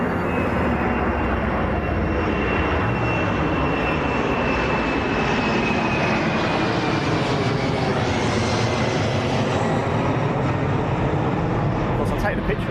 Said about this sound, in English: Look at that, what an absolute whopper that is. That's a huge plane.